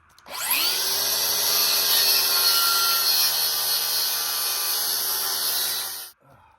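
Wood boards cut outdoors on a tree-stump workbench, with a long steady saw run lasting several seconds, loud and close, starting abruptly and stopping near the end.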